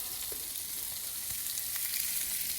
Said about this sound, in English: now we're going to take our hot Italian sausages and get those onto the grill